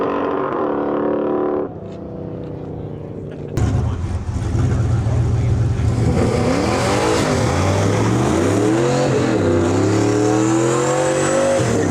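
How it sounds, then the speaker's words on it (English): A turbocharged Camaro race car idles loudly at the drag strip starting line, then its engine rises into sustained revving with sweeping pitch swings, close and dominant, with a voice talking faintly underneath. "Brett and Anuch pulling up to the line here. Beautiful Camaro turbo deal."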